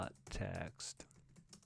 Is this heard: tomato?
no